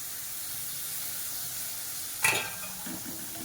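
Low, steady sizzle from a pan, then a sudden louder hiss and crackle as onion and tomato hit the hot oil, settling back into frying.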